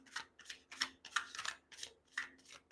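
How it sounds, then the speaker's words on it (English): A tarot card deck being shuffled by hand gives quiet, crisp riffling bursts in a steady rhythm of about three per second, close up, with no talking. "This is a hard deck to shuffle"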